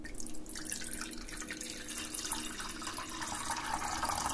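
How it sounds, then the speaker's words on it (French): Water runs steadily from a kitchen tap into a pot, to be heated for pasta, a continuous hissing splash that stays close and even throughout with no talking. "Je vais commencer par faire chauffer de l'eau."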